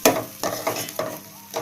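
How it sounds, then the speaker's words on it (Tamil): Ground masala spices stir and sauté in a hot pan for a cauliflower and capsicum gravy: close, irregular scraping strokes of a spoon over a soft sizzle, in short bursts. "இது ஒரு 5 நிமிஷம் வதங்கட்டும்."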